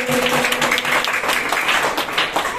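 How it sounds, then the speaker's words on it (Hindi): Steady applause from a studio audience during a quiz show, moderately loud clapping with an even, continuous texture throughout. "तो चलिए जोरदार ताली हो जाएगी इसके लिए"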